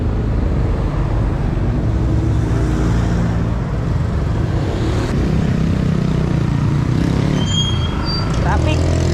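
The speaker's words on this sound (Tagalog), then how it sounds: "Traffic." Road traffic on a route in Rizal toward Laguna, with a steady rumble of cars, trucks and buses nearby, a brief hiss of air brakes and some squeal near the end.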